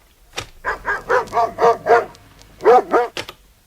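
A dog barks close by, a run of five quick evenly spaced barks, a brief pause, then two or three more, loud and clear with no voices.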